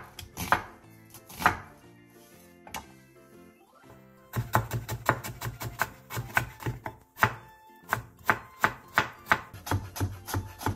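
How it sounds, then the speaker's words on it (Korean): A knife thinly julienning onion and carrot on a cutting board, with a few separate chops followed by a fast, steady run of close, crisp strikes, and no talking. "양파 4분의 1개와 당근 조금을 얇게 채 썰어주세요"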